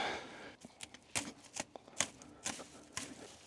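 A blade cuts through excess net wrap hanging from a Krone round baler, a quick series of close, crisp snips and tearing rasps in an irregular rhythm.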